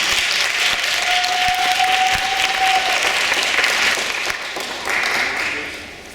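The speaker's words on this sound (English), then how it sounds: "Let's give them all a round of applause." An audience at a middle school debate event gives a sustained round of applause, thick and even, with a few voices and a whistle-like tone over the clapping before it eases off.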